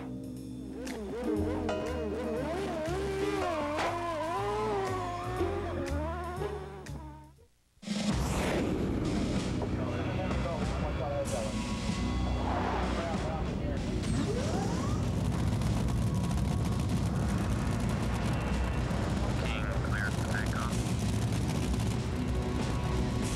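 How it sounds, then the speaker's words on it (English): Kenny Bernstein's Budweiser King Top Fuel dragster lets out a loud, continuous, heavy roar that bursts in abruptly after music cuts off, then holds steady and dense for many seconds. "Kenny Bernstein's Budweiser King Top Fuel Dragster"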